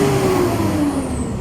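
A car engine revving high toward 5,000 RPM after a check-engine fault repair, a loud sustained roar with a slowly falling pitch that runs through the whole short moment without speech.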